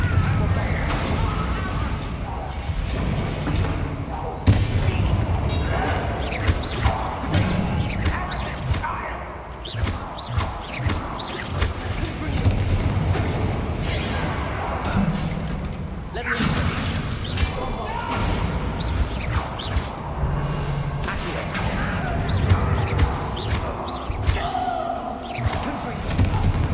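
Confringo blasting spells exploding in a Harry Potter video game, a run of loud crashing bursts and shattering impacts layered with whooshes, close and dense, with a voice talking in between.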